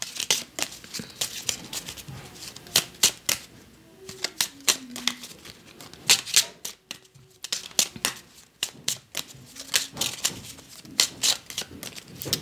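Tarot cards shuffled and drawn by hand, giving rapid close flicks and slaps of card stock in irregular bursts, with a faint singing voice in the background.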